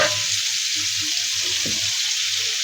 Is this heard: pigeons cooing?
no